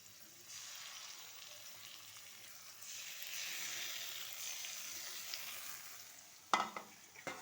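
Potatoes frying in a pan with ground mustard paste, a soft steady sizzle that swells in the middle, ending in a few sharp clatters of stirring, with no talk.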